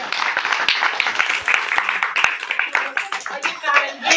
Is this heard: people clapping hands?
yes